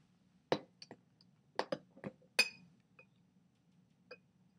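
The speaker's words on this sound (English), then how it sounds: "I'm going to put a beaker underneath." A glass beaker being set down beneath glass tubing, giving several short, sharp clinks and knocks in quick succession, close and fairly quiet, with a faint steady hum underneath.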